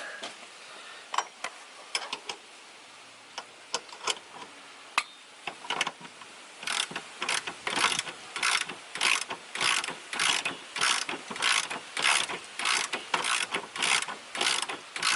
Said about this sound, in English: Let's go ahead and tighten it the other side just to make sure we're doing this equally.